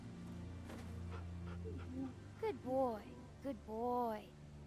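In The Walking Dead season two video game, a dog whimpers and pants in high, wavering whines and short yips that come and go over a steady background drone, close and moderately loud.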